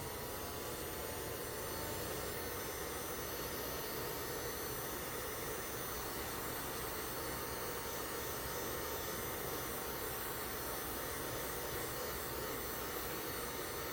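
A hair dryer or blower drying paint on a rabbit figure, running as a steady, even whoosh with no pauses or speech.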